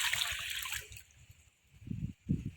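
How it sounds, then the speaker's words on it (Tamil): Hot water pours over dried fish during cooking, a broad splashing wash for the first second, then quieter trickling and two short gurgling splashes near the end. "சுடு தண்ணி எடுத்து ஊற்றி கருவாட்டை கழுவி அள்ளி வச்சுக்கலாம்"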